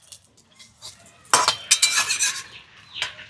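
Ingredients with curry leaves being stirred in a little oil in a kadai, with a few quiet clinks, then a burst of loud metal spatula scrapes and knocks against the wok, closing with one more scrape.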